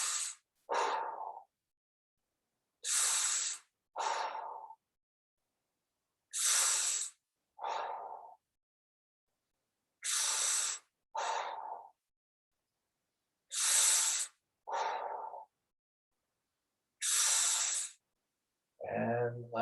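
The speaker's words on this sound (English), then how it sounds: "And last breath, breathe out" Slow, deep breaths during a yoga stretch, each long inhale followed by a softer exhale, repeating in a steady rhythm with silent pauses between them, close and clear.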